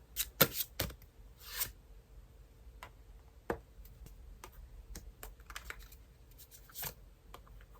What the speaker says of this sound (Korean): 이 두 가지 방향 조언 카드 같이 한번 뽑아보겠습니다